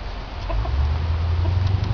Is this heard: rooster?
yes